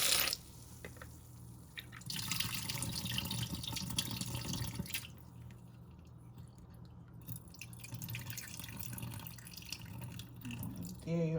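Cold tap water runs and splashes over saltfish in a bowl as it is rinsed, a steady close wash with shifting trickles and drips, fuller in the first few seconds then softer.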